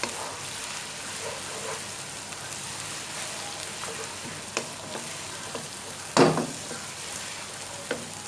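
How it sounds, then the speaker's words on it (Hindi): Garlic and ginger paste frying in a pan for fish biryani, a steady close sizzle with a soft crackle and one brief louder scrape of stirring partway through. "लहसुन अदरक को आपने सिर्फ 1 मिनट फ्राई करना है इसके अंदर।"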